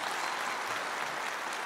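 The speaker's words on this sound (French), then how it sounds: "Applaudissements s'il vous plaît pour Olivier." An audience at an annual conference applauds steadily, a dense, even wash of clapping from many hands throughout, with no voices heard.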